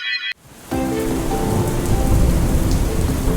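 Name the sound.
rainstorm with thunder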